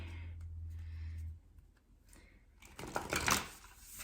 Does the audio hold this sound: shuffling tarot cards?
yes